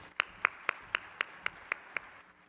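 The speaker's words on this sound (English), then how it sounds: "So everybody give Sims a big round of applause." Applause for a co-host at a business event comes through as eight sharp, evenly spaced claps, close and distinct over a quiet room before fading out.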